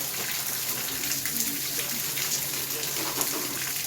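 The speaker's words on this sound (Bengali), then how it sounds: "এখানে 24 ঘন্টা কল থেকে জল পড়ে" A tap running nonstop, a steady broadband rush of water splashing, close and even throughout.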